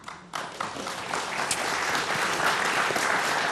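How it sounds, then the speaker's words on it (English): Audience applause at the close of a panel discussion on Australian innovation, a brief quiet moment giving way to a steady, full room of clapping that sustains to the end. "Little round of applause all around there, I think."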